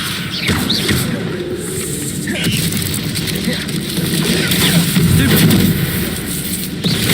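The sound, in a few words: spell casting effects in the video game Hogwarts Legacy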